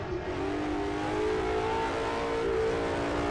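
A heavy 1960s GTC race car in the Assetto Corsa racing game drones loudly at steady revs, its engine tone holding and swelling slightly with nothing else heard.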